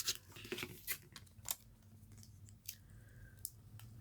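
Transfer tape being peeled slowly off a vinyl sticker on a Dollar Tree cup, giving a string of close, crisp crackling and ticking bursts spread unevenly across the moment, with no voices.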